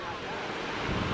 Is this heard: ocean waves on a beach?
yes